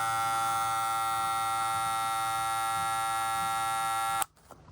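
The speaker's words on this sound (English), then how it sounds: "Let's see how the motor does with the blades slid back" A Wahl Boosted brushless hair clipper motor runs with the blades slid back, a steady loud high-pitched whine that holds constant and then cuts off abruptly near the end.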